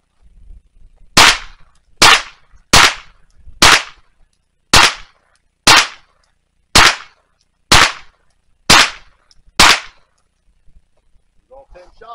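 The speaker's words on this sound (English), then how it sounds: "Next, I'm gonna take 10 shots, just shooting offhand." Ten sharp gunshots fired offhand at an outdoor range by a shooter using a Vector Optics Frenzy 1x26x32 6 MOA red dot sight, spaced roughly a second apart, loud and close with short decays, then quiet.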